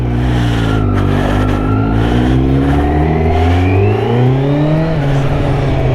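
A 2020 Kawasaki Z900 motorcycle engine while riding, loud and close with a steady drone whose pitch rises and falls through gear changes and acceleration, heavy wind noise, no talking.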